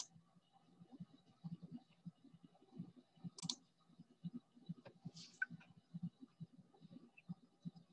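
A computer mouse clicks steadily and faintly in a quiet room, with many light, rapid clicks spread evenly across the whole stretch and no one talking.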